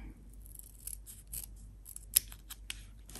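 Scissors cut paper for a small junk journal, making a run of quick crisp snips and rustles at uneven intervals, close and soft, with one sharper snip near the end and no voices.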